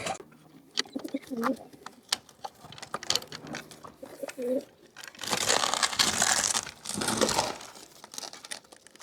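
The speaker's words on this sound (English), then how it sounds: "So I'm going to open the trap. I'm going to let the birds in." Pigeons enter a loft trap during trap training, with soft cooing and wing flutters mixed with scraping and rustling, rising to a loud burst of flapping wings near the end.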